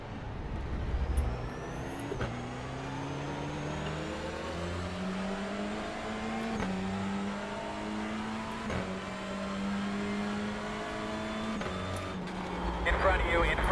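Race cars at Thruxton circuit in iRacing rev hard through repeated gear changes, engine pitch climbing then dropping in a steady rhythm, loud and close, with talk over the top.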